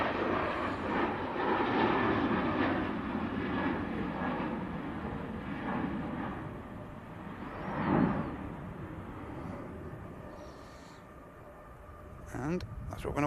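An aircraft on final approach to land at Manchester Airport gives a broad, steady roar that swells around the middle and then eases, with outdoor background noise and a voice talking over it.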